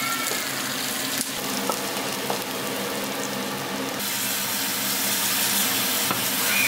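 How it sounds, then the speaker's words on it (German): Onions fry in a pan, a continuous close hissing sizzle that carries on evenly throughout with no talking. "ich bereite noch den letzten Schritt vor, und zwar Zwiebel anrösten"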